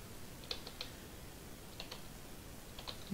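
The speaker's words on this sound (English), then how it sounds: "Keyboard, work for me." Keyboard typing during a script-writing session, heard as sparse clusters of faint, distant key clicks over a steady background hiss.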